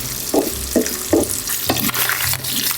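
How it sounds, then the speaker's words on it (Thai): Bacon fries in a hot pan, a constant sizzle broken by a regular run of stirring scrapes and shuffles. "ตั้งกระทะจุดไฟใส่เบคอนลงไป ค่อยๆ เจียวนะครับเจียวจนแบบน้ำมันเบคอนออกมาเยอะ"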